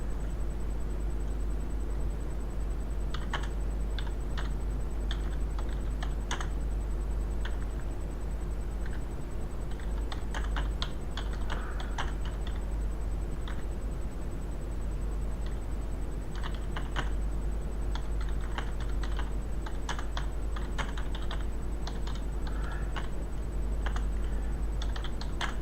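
Typing on a computer keyboard, irregular bursts of quick key clicks with pauses between runs, close and clear over a faint steady hum, with no talking.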